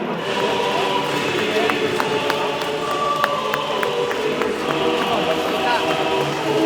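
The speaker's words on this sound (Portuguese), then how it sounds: "Tá rolando 1 minuto de aplauso pra Ucrânia." A stadium crowd at a football match in Denmark gives a minute of applause for Ukraine, a dense sustained wash of clapping and cheering with a voice talking nearby over it.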